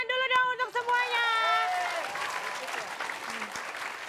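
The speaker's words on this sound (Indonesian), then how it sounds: "tepuk tangan dulu dong untuk semuanya" A group applauds together after being asked to stand at a lively televised comedy game show, dense clapping rising over a brief tonal musical sting and then carrying on steadily and loud.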